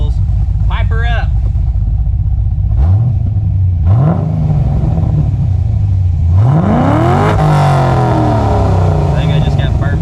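A Caprice PPV car engine with resonators idles with a deep rumble, then revs sharply several times through the exhaust, loud and close, with a voice briefly audible.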